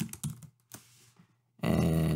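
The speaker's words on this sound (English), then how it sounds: "I'll type in Filmmaker." A few sharp keystrokes on a computer keyboard click close by, separated by brief quiet gaps, before a steadier tonal noise comes in at the end.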